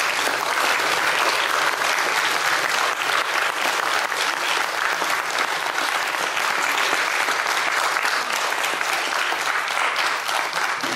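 Sustained, dense applause from a theatre audience at a Polish stage benefit evening, steady and loud for the whole stretch with no speech over it.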